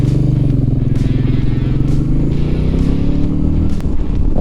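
A Royal Enfield Meteor 350 cruiser motorcycle engine rumbles steadily up close, its deep throbbing note rising slightly as the bike rides along, with faint clatter over the top.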